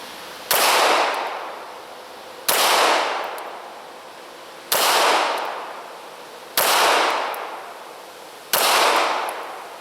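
Five evenly spaced pistol shots from an S&W M&P firing 115 grain remanufactured ammunition at an outdoor range, each a loud sharp crack with a long ringing decay, about two seconds apart.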